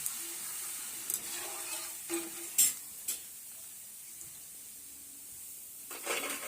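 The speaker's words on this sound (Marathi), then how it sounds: "आता अशा प्रकारे आपण सर्व सांडगी भाजून घेऊ" Dried poha sandge roast in a pan, a faint low sizzle and hiss broken by a few light scraping and stirring knocks, fairly quiet and without speech.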